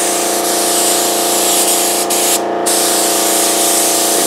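A fine mist of spray hisses steadily and loudly onto a Kevlar fuel tank mold, a close continuous spray with one brief break partway through.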